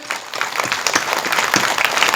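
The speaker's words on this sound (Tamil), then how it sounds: "கைதட்டுங்க." A church congregation at a St. Anthony novena Mass breaks into a short, fairly loud burst of dense, even applause.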